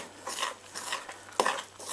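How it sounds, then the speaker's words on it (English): A spoon stirs pizza dough ingredients in a bowl, close scraping and clinking strokes with irregular knocks against the bowl, one sharper clack partway through. "Mix it around with a spoon first."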